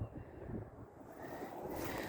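Wind blows outside a 2011 Winnebago Vista RV, a steady low rumbling buffet against the microphone that rises and falls over a couple of seconds.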